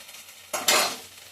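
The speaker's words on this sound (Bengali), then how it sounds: "পালং শাকের পেস্টটা মিশিয়ে দিয়েছি। এটা এবার ভালো করে আমি কষবো।" Spinach paste being sautéed and stirred in a pan for palak dum aloo, heard as a brief scrape of a utensil with a short burst of sizzling over a faint background hum.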